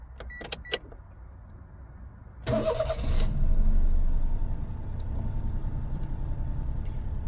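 Inside a Daihatsu Move Conte Custom X, a Japanese-import automatic kei car, faint clicks come first. The starter then cranks briefly and the small engine catches, settling into a steady idle hum.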